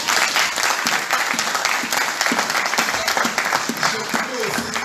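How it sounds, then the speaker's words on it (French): A church congregation at a French-language sermon in Istanbul applauds for the Lord. Dense, sustained clapping fills the room, with voices calling out over it. "Est-ce que quelqu'un peut acclamer pour le Seigneur?"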